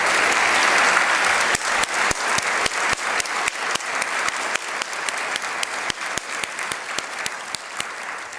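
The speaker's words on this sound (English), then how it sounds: "Please give her a round of applause." A large audience applauds at a university presidential inauguration ceremony, installing Husson University's seventh president. The dense, steady clapping runs the whole time and is punctuated by sharp, louder individual claps near the microphone.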